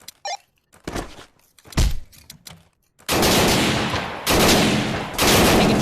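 Bursts of gunfire from a tactical shooter game during a breaching exercise: several short sharp shots early on, then loud, sustained automatic fire in long dense volleys, close and dominant.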